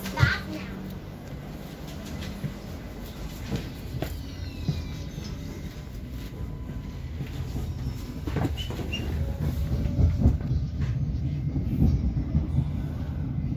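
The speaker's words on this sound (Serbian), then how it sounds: "Idemo vozom sad na sever." A train rumbles steadily with rhythmic wheel clatter and occasional squeals, growing louder toward the end, while people talk in the background.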